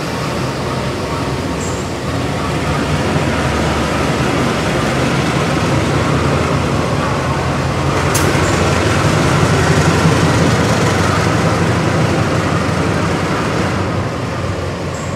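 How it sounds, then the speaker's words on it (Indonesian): Locomotive pushing an economy passenger train backward into Surabaya Kota terminus station, a steady dense rumble of engine and rolling carriages with a faint squeal or clank, continuous and close. "Lokomotifnya mendorong mundur kereta ya."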